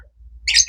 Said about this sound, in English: my bird just flew onto my shoulder